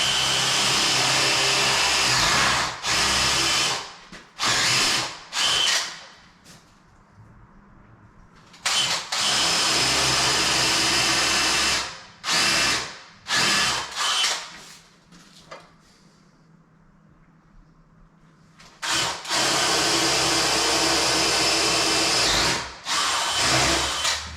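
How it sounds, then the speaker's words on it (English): A hammer drill bores into wooden stair trim in several loud bursts, some long and some short, with quiet pauses between them and a long gap near the middle. "it's on hammer drill."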